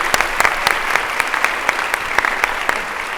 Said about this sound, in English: we're gonna give them a huge round of applause